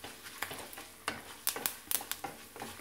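A hot tempering stirred into ven pongal in a home kitchen, a quiet crackle under a run of sharp spoon scrapes and clinks against the pot, irregular and close.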